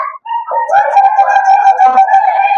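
A voice imitates a baby bird with high, warbling chirps and tremulous peeps, delivered in a quick continuous run close to the listener.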